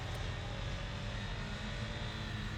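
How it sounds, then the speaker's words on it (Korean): A motorcycle engine drones steadily with a deep low rumble, running unbroken throughout, moderately loud and even in level. "엔진 소리가 뭔가 예전보다 커진 것 같은 것이야."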